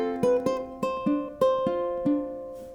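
A ukulele plays the second bar of a song, a short run of clear plucked notes and strums with ringing sustain, close and alone.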